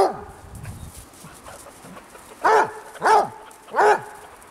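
Dogs in Necedah eager to get out give three sharp, fairly close barks in quick succession near the end, after quieter snuffling and faint whimpers, with chickens nearby.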